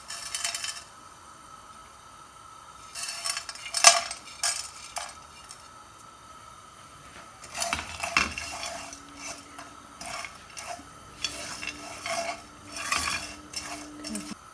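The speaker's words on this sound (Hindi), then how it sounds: "सबसे पहले हम इन तमाम मसालों को ड्राई रोस्ट कर लेते हैं।" Whole spices being dry roasted in a pan over a low flame for keema fry, rattling and clinking in scattered bursts as they are stirred and tossed, close by, with quiet gaps between and no talking.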